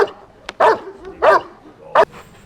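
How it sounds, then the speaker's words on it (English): A German Shepherd barks three times in training, sharp close woofs spaced about two-thirds of a second apart with a faint yip before them. "We're building the barking in the dog."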